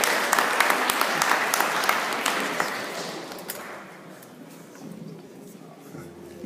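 Applause from the audience at a school festival concert, fairly loud at first and gradually thinning out, with a voice beginning to talk as it fades.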